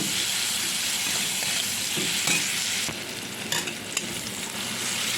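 Onions sizzle and crackle steadily in a hot pan with a little sugar, with a few sharp scraping stirs partway through.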